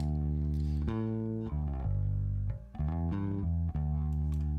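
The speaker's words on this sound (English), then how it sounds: "it gives us a little bit of distortion because we're pushing the bass too hard into it" Heavy bass in a mix pushed too hard into a processor, giving a thick, fuzzy distortion over sustained low notes that shift pitch every second or so, loud and dense with no voice.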